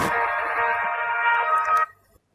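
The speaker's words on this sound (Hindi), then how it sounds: "शहरोज का फोन" A phone ringtone plays a sustained electronic tone for about two seconds, then cuts off abruptly.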